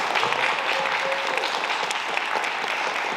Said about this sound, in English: give a very hearty round of applause for Dean Taylor.